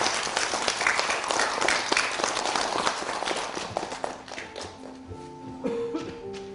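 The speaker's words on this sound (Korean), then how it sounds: "지금까지 소개해주신 지인님께 박수 부탁드리겠습니다." Audience applause at a literary concert event, a burst of clapping that starts loud and thins out, with scattered claps and some shuffling and talking as it fades.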